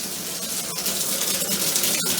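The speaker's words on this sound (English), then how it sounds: "go ahead and turn the cold water on to the shower" Cold water runs from a household shower in a steady, hissing rush that stays even and close, with no voices.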